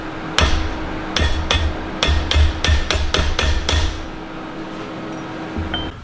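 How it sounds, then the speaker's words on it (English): A big ball-peen hammer taps a warped, spot-welded nut back into place on a metal lamp leg, giving about ten sharp metallic strikes in quick groups, loud and close, over a steady hum. "so I'm just gonna use a big bull peen hammer"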